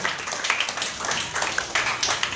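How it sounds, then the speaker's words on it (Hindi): Clapping from an audience at a primary-level Hindi quiz for class 3, a fairly loud, uneven patter of hands with a few sharper individual claps standing out over a couple of seconds. "आप जोरदार तालियां बजा दीजिए"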